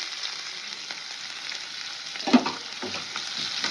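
Chopped onions fry in hot oil after the cumin, a steady close sizzle with a brief louder hiss partway through, with no voices.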